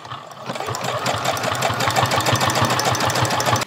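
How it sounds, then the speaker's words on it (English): A sewing machine stitching an elastic seam, running in a fast, even mechanical chatter of rapid needle strokes that continues steadily throughout, close and fairly loud. "And I'm just going to take this to the sewing machine first."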